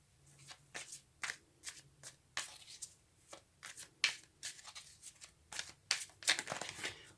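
Tarot cards being shuffled by hand: a quick, irregular series of crisp riffling bursts, close and clear, with short pauses between and no talking.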